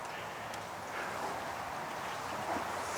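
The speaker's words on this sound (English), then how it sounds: "we got somebody here with a really loud engine" Loud engine running nearby, heard outdoors beside a garden in Gaylord, a steady rushing drone mixed with wind noise that holds constant throughout.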